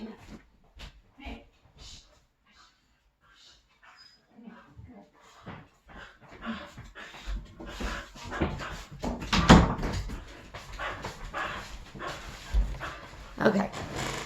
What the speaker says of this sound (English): I know you hear my dog.